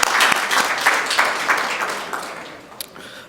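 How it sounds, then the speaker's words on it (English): Audience applause for the Bank of Punjab at a business seminar. Dense clapping starts loud, then thins and fades over a few seconds, with a few scattered late claps. "I'd like to start with a round of applause for the Bank of Punjab."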